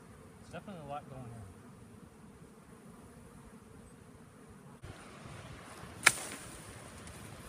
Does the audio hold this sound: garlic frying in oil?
no